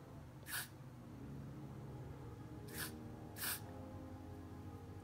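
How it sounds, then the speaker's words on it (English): Freeze spray misted onto the perimeter of a wig during an install, three short hissing bursts with a pause between the first and the last two, close and fairly clear over a steady background. "we're gonna go in with our freeze spray, and we're just gonna spray that on the perimeter"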